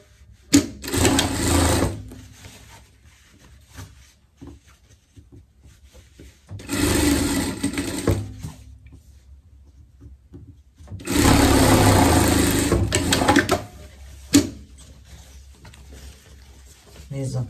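A sewing machine stitches the side seams of a Swiss-style pet coat in three loud bursts of steady whirring, each a couple of seconds long, separated by quieter pauses with handling noise.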